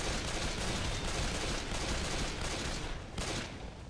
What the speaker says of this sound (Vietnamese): Game này bắn nhau cũng đã nhỉ.